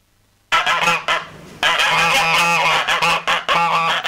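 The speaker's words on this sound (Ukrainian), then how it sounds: "Гусей, козенят, поні та інших тварин на цьому подвір'ї пенсіонер Юрій збирав протягом 3 років." Loud, close geese honk in repeated overlapping bursts at a pensioner's mini zoo in a Sloviansk yard, where goats and ponies are also kept, with a short pause near the start.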